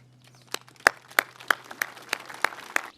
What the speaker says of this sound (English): Please join me in a round of applause for all those who continue to safeguard our history